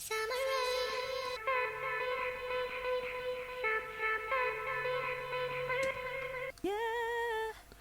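A female vocal sample in a jungle drum and bass production, treated with delay, reverb, compression and a stereo spreader, holds long sustained sung tones in a few phrases that blur into a wide, washy tail.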